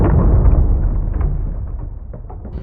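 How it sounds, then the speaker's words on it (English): A deep, rumbling explosion from a torpedo striking a ship, one heavy blast that rolls on and slowly fades over a couple of seconds. "A deep thud was heard from the depths of the ship."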